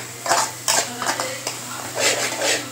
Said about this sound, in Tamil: இஞ்சி பூண்டு பேஸ்ட்டு பச்சை வாசனை போகிற அளவுக்கு நல்லா வதக்கலாம்